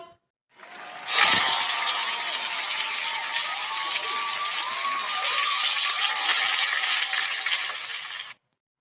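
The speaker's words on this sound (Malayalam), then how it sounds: "ആമിനക്ക് എല്ലാവരും ക്ലാപ്പ് കൊടുത്തേ" Classroom applause for a student named Amina in an animated comedy: a sudden burst of dense, rattling clapping that holds steady for about seven seconds and then cuts off abruptly.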